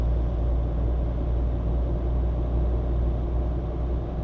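A truck engine in the video game Euro Truck Simulator 2 hums as a steady, low, continuous rumble while driving, fairly close and even in level, with no other sounds over it.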